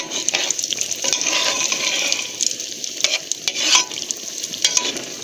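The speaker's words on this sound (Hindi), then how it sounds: "अब हम इसको फ्राई करते हैं।" Kebab frying in hot ghee, a steady close sizzle with crackling bursts and faint stirring scrapes, no voices.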